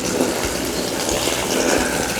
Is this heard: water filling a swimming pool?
yes